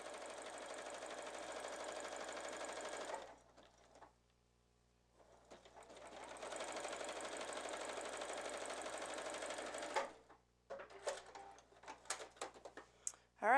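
A sewing machine stitches a seam in stretch fabric, running in two sustained bursts of rapid, even mechanical whirring separated by a short pause, ending with a few scattered clicks and handling sounds.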